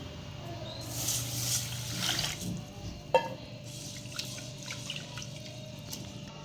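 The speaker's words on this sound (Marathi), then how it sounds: "एक वाटी मुगाची डाळ घेतलेली आपण ती स्वच्छ आपण धुवून घ्यायची आहे" Water splashing and swishing in a bowl as moong dal is rinsed by hand, with a sharp clink in the middle and soft drips afterward.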